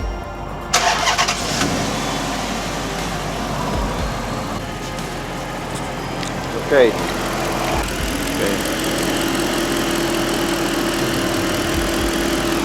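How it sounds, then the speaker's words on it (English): A 2006 Chrysler 300 engine cranks and catches, then settles into a steady idle that runs close and loud, with a brief spoken word over it. "So let's start the engine."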